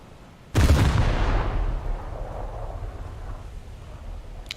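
A single loud naval gun blast from the French battleship La Royale in a naval combat game, booming abruptly and then rolling away in a long fading rumble over several seconds.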